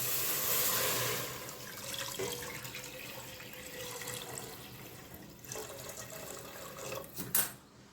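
Water is poured into a pearl millet flour mixture for bajra vade, a steady splashing stream that is loud at first and then continues more softly with a few drips.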